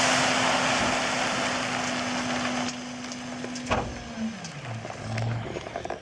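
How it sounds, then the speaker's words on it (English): A truck dumps a load of rocks on a rough shell road, a long grinding, rumbling pour with sharp cracks and knocks, while the engine hum drops in pitch near the end. "And that's how you dump a bunch of rocks"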